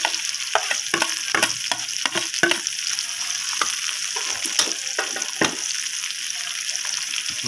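Garlic and onion sizzle in a frying pan for adobong palagatik, a steady bright crackle with occasional clinks and stirring knocks from a utensil, close and continuous.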